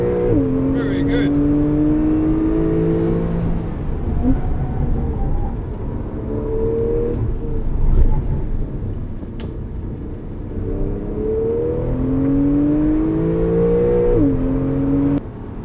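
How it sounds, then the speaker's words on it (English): A 2016 Porsche 911 engine on a racing lap at Yas Marina Circuit, droning loudly from inside the car with repeated rising revs and gear changes, steady throughout. "Let's listen to the engine."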